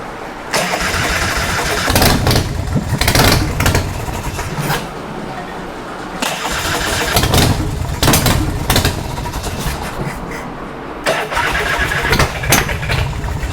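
An old motorcycle that sat unused for years cranks and fires up, sputtering and catching in uneven bursts of loud engine chug with short gaps between attempts.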